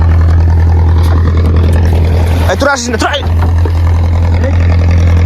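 A fishing boat's engine on the Padma river hums with a steady, loud, low drone throughout, while a man briefly calls out partway through.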